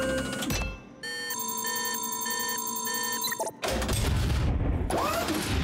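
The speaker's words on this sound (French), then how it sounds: "Nous allons utiliser cette machine à copier." A cartoon copying machine working on a tennis ball gives a whirring mechanical run with regular electronic beeps and tones, framed by short bursts of noise before and after.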